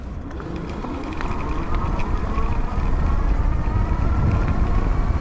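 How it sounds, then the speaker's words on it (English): A 2025 Wired Freedom electric bike motor gives off a low, soft whine beneath a steady rumble of riding and wind noise that swells slightly partway through. "There's a little bit of whine, but it's like a low frequency whine."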